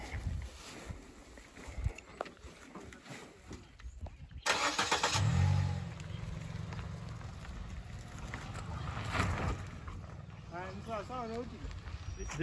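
A car packed to the brim with cargo drives slowly over bad, rough roads in rural Kenya. The engine drones steadily under wind buffeting and bumpy rattles, and voices come in briefly near the end.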